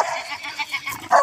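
Pumpkin, an angry dog, lets out a quick run of sharp barks and yips close by, with a louder bark at the end.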